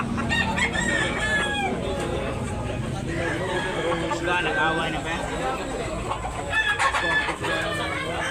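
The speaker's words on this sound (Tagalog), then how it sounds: "Gandang manok." Roosters and hens cluck and crow at a busy chicken market in Tabunok, Talisay, Cebu, calling continuously and overlapping near and far, while people talk throughout.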